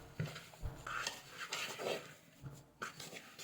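Cutlet mixture with crumbled bread being kneaded and mixed by hand in a bowl, with soft squelching and scattered clinks and scrapes against the dish, close and fairly quiet.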